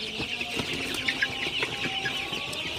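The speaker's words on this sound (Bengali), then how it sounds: "আমার সোনালি সুপার হাইব্রিড মুরগিগুলা বেশ ভালো আছে, সুস্থ আছে।" Sonali super hybrid chickens in a farm coop at night cluck softly and intermittently, with several birds heard at moderate distance over a steady background hiss.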